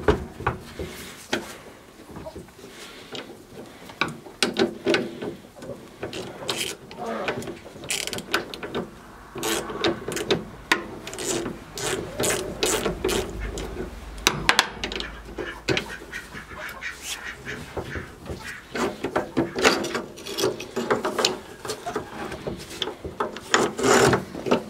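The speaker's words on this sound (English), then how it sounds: "Slide this out a little bit." A wooden part of a vintage desk is worked loose and slid out, giving irregular scraping, rubbing and knocking with occasional sharper clunks, close and continuous for the whole stretch.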